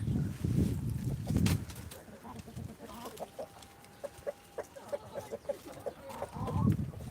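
Backyard chickens fed lettuce scraps give soft low clucks, then a run of short, evenly spaced clucks and murmurs nearby, with no talk over them.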